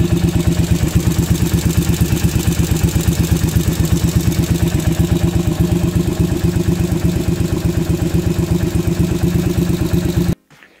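Motorcycle engine idling steadily after a swap to junkyard carburetors, a loud, even, rapid putter with regular firing pulses for about ten seconds before cutting off abruptly near the end.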